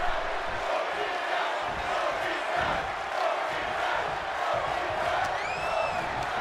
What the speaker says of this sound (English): I don't even know what the crowd is chanting, but they are behind this match so far